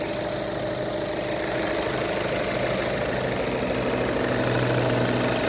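A 2012 VW Touran 2.0 TDI 140 hp diesel engine idling, a steady, close, even drone with a fine rapid diesel clatter running throughout and no voices.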